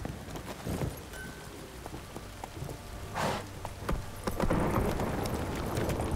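A horse's hooves clop in an uneven trot over a soft patter of rain in the video game The Witcher 3: Wild Hunt, with the rain growing louder in the final seconds.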